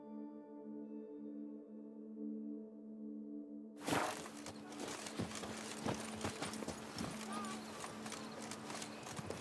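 Roach, the horse in The Witcher 3, gallops after a few seconds of sustained tonal game music. Rapid, loud hoofbeats burst in and drum on steadily to the end.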